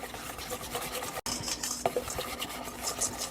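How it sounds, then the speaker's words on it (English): Wet ingredients for a pumpkin roll are whisked together in a bowl, making a continuous close, quiet rustle of whisk wires against the bowl with a few light clinks and a brief break. "I'm just going to use my whisk and mix all that together"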